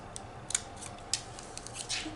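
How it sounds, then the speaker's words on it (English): Scissors make a few quiet, crisp snips while trimming the overlong ends of a 4th of July paper garland, with sharp cuts at about half a second and one second against a faint room hiss. "these are a little too long. I'm just going to trim it down a little."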